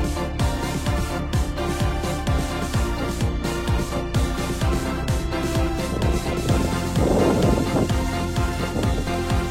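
A violent thunderstorm with gusting wind, hail and heavy rain, heard as a loud, continuous roar of rain and wind with buffeting gusts and repeated sharp impacts, with no voices.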